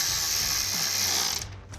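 A ratchet snugging up five screws on the front side of a 2015-2026 Ford F-150 side mirror gives a steady, close mechanical clicking that runs for over a second before stopping abruptly.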